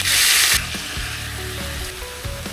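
Cooking oil hissing and splattering in a hot pan while preparing chicken adobo with calamansi and potatoes, a loud burst of sizzle that settles into steady crackling with occasional pops.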